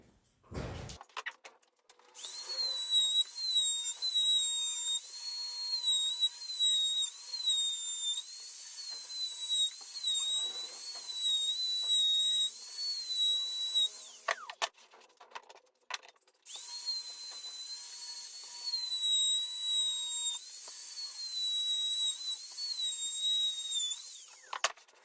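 A router with a bearing-guided bit trims the edge of a round MDF tabletop, its high steady whine running continuously, cutting out briefly midway before starting up again.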